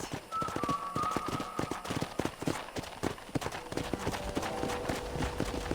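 Horse hooves trot in the Red Dead Redemption video game, a steady rhythmic clip-clop running throughout, fairly close and clear, with faint tonal game sounds drifting over it.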